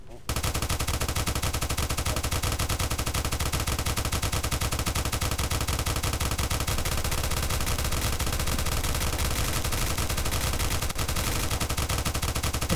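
Sustained automatic gunfire in a shooter video game, loud and continuous rapid bursts filling the whole stretch with barely a break, dense and unrelenting.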